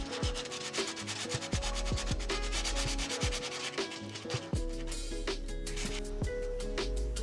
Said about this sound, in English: I reckon the tolerance is so marginal that the powder coat is too thick, so I sand it down